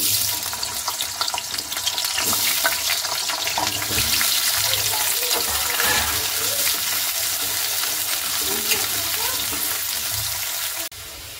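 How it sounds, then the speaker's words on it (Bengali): Potato pieces frying in hot oil give a steady, loud hiss and crackle that runs unbroken throughout, with a brief drop near the end. "দেখুন তেলটা কিন্তু খুব সুন্দর গরম হয়ে গেছে। এবারে আমি সেই আলু ধোয়াগুলো দিয়ে দিব একে একে।"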